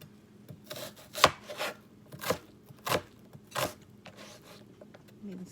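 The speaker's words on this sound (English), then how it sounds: "We're gonna mince this a little bit" A knife minces food on a cutting board in a handful of separate rasping strokes, close and moderately loud, with quiet gaps between them.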